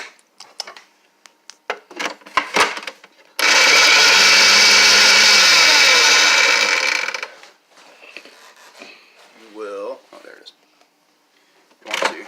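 A blender whirs loudly for about four seconds, blending salsa with tomato sauce, then stops; a person talks before and after it alongside clinks and handling noises.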